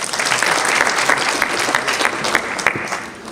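Sustained applause from a room full of people, dense and steady clapping that tapers slightly toward the end.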